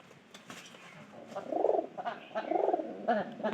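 Pigeons cooing while feeding, with soft, low, throaty coos repeating every second or so over quiet background rustle, fairly faint and close.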